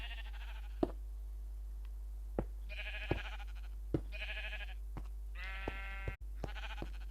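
Several short blocky bleats from sheep in the video game Minecraft, spaced a second or so apart, over a steady low hum with a few clicks, heard alone without talk.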